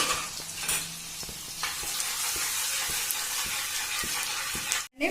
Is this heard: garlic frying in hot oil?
yes